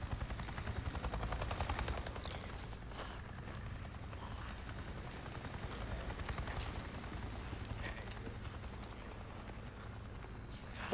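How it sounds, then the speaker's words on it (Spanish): A helicopter in the video game Days Gone passes overhead, a steady low rotor thrum holding for several seconds at moderate distance alongside faint game ambience, no talking. "Un helicóptero."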